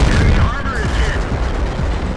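A tank cannon firing in the World of Tanks battle game, T28 Prototype, with a dense, loud booming blast and heavy rumble filling the whole moment, with battle noise and a voice mixed in.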